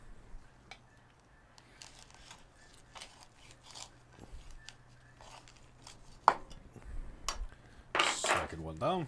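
A knife slicing through smoked beef ribs fresh off a Kamado Joe, quiet scattered cutting and handling sounds with a few sharper knocks and a louder rustle near the end.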